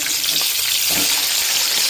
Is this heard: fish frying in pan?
yes